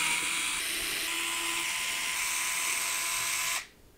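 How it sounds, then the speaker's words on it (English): A small electric screwdriver whirs steadily for a few seconds while backing screws out of the top of a PC case, the high buzzing motor cutting off abruptly near the end. "So there's two screws at the top on each side and two screws at the front we need to remove."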